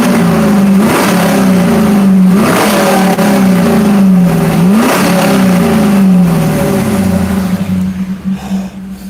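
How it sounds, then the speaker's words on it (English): Pontiac Trans Am engine revved in neutral near the exhaust: loud repeated throttle blips, each pitch climbing then falling back, about four rises in a row before settling to a rough idle. "Now somebody said rev it up."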